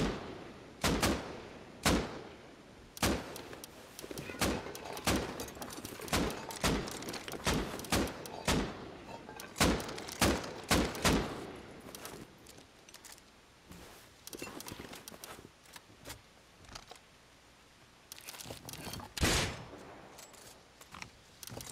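Video game gunfire from a real gun, sharp shots fired singly and in quick bursts with irregular gaps, loud and clear over quiet background.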